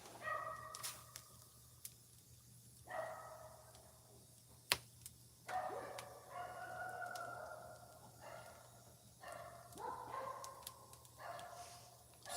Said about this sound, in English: So hear them dogs down there,